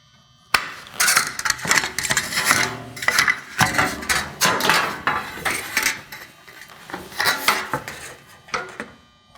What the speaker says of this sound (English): And then go ahead and cut it with my snips.